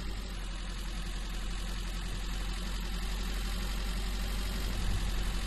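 A dump truck engine idles in Giant Machines 2017, a steady, even low rumble with faint mechanical vibration throughout and no voices.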